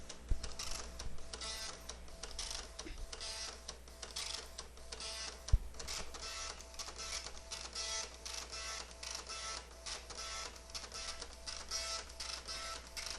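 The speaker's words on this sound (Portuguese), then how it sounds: "Então depois colocar aqui a folha, eu aperto pra liberar a impressão." An Epson LX-300 dot matrix printer prints a sheet, giving a steady, dense buzzing rasp with rhythmic head passes and one sharp click partway through, close and continuous with no voices.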